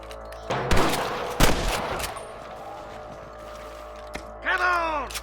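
Gunfire in Red Dead Redemption, a few sharp loud shots early on followed by a lull, then a shouted voice over the game's background ambience.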